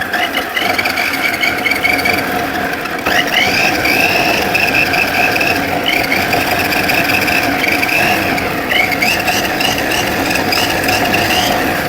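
An electric food processor whirs continuously while peeling garlic, a loud, steady motor drone with a rattling texture and slight shifts in pitch as the speed is changed.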